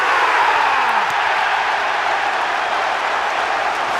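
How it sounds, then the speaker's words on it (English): A football stadium crowd roars in celebration of an Arsenal goal, a dense, steady wall of cheering and applause that sounds loud and continuous. "Murian Timber is at the core of the celebratory crowd."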